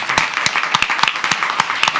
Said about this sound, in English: I just wanted to give you a hand clap of praise and appreciation also